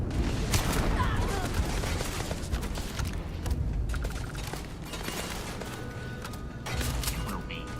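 Shotgun fire in a video game, loud, dense bursts of gunfire and booms running through the whole stretch over busy game noise, with no clear gaps.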